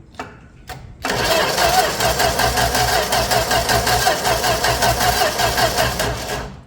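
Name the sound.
old car slant six engine starting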